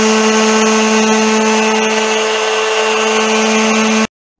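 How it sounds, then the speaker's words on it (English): A power sander works steadily over a scrap-wood cutting board, a loud constant whining drone with steady tones that cuts off abruptly near the end. "I'm just gonna keep sanding it, see if I can get it smooth enough,"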